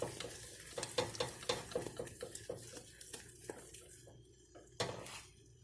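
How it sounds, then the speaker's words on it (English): A whisk beats egg yolk sauce for Greek moussaka in a pot, quick rhythmic metallic clicks and scrapes in bursts with brief pauses, fairly quiet and close, with no talking. "We're just going to continue whisking that."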